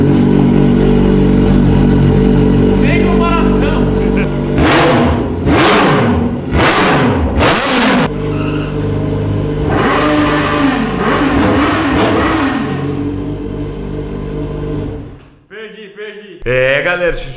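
A loud Audi engine with a straight-pipe exhaust idles, then revs hard in several sharp bursts with roaring exhaust, settling to a rumble before a voice speaks briefly.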